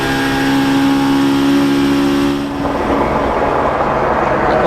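Touring race cars with Seat turbodiesel engines at the 2008 WTCC Curitiba race, a loud engine drone with a steady tone that drops partway through as a car passes.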